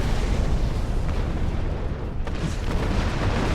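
A broadband rumbling explosion blast in the space combat game Star Trek Online, a loud continuous roar filling the whole clip with a brief dip midway, no voices.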